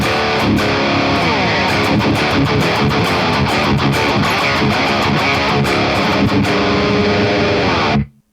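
A PRS Custom 24 electric guitar runs through a heavy rhythm preset on a Quad Cortex, giving a dense, saturated, distorted riff that plays loud and continuous for about eight seconds before cutting off abruptly.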